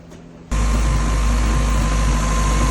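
Suzuki Samurai 1.6L 16V engine after front crank seal replacement and retiming, starting abruptly after brief quiet and settling into a loud, steady close-up idle with no break.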